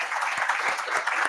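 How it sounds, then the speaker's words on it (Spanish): Brief audience applause closing a seminar on public technology procurement, moderately loud, dense and even clapping from a room of attendees. "Un aplauso"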